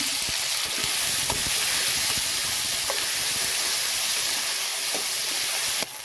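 Ingredients for perandai thovaiyal sautéing in a pan, giving a steady, loud, close sizzle and hiss with occasional faint stirring taps, heard alone without voices.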